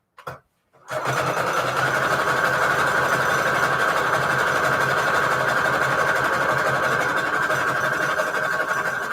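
A sewing machine stitching a zigzag runs as a loud, continuous, even mechanical hum with a rapid rhythmic pulse, beginning after a short pause and a bump near the start.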